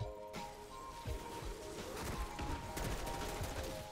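A gun fires in MW3 Zombies, a quiet stream of rapid shots and crackling bursts at a moderate distance, steady over the whole stretch.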